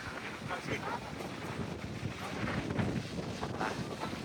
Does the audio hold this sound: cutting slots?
no